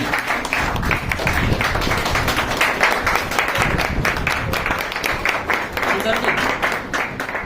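An audience claps for an honored guest at an agricultural wellness gathering, a dense, continuous patter of many hands, loud and close throughout.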